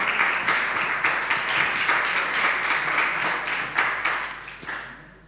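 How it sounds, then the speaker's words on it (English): An audience applauds steadily throughout at a Berlin translation festival event, a dense wash of many hands clapping at even volume that begins to fade near the end. "Sie können auch jetzt nochmal applaudieren."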